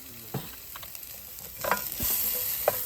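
Onions fry in oil with salt in an outdoor cooking setting, a soft sizzle punctuated by a few clinks and stirring knocks, growing louder and fuller toward the end.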